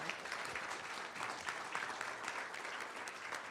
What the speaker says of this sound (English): Let's give them a great big round of applause as well.